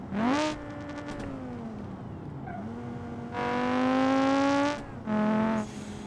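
A 200BX car engine running at maximum turbo boost in the BeamNG.drive driving simulator, revving up and down in several loud, harmonic-rich pulls separated by quieter idling and shifts, with no talk.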